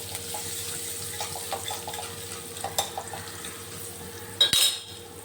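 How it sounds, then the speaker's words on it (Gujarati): Curry leaves and asafoetida stirred in a pan for rasam vadai: soft, irregular scraping taps over a low steady hum, ending with a louder clank near the close. "પછી આપણે કઢી પત્તા લેશું એટલે કે મીઠી લીમડી લેશું એને હલાવી લેશું"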